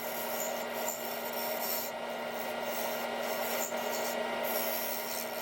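A bowl gouge cuts a dense Purple Heart wood waste block on a lathe, making a continuous scraping rasp over a steady low motor hum.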